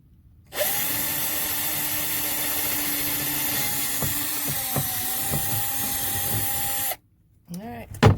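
A power drill bores a hole through a stove slide-stand tray hung over a table edge, one steady high whine lasting about six seconds with slight pitch dips under load, then stopping abruptly before brief clattering.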